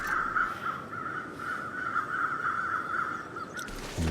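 Crows in the video game The Long Dark give a steady run of harsh caws, fairly close and clear over quiet ambient background, with no talking.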